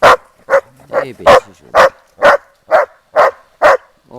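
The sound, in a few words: Belgian Shepherd dogs barking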